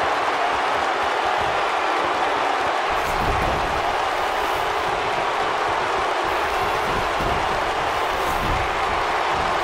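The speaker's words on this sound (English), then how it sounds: "Another electric crowd on hand here for SmackDown" Arena crowd at a SmackDown wrestling show in the WWE 2K19 video game, a dense, unbroken roar of cheering that fills the whole clip at steady loudness.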